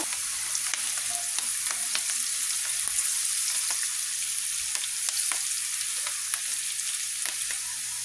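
Softened onions fry in oil in a pan as turmeric powder goes in, giving a steady, close sizzle dotted with sharp crackles and pops, with no talking.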